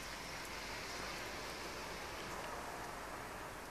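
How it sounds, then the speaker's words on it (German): Steady, faint rain hisses evenly over a surface outdoors near a railcar in Austria's Salzkammergut, a soft continuous wash with no talking. "Der Regen lässt zum Glück nach."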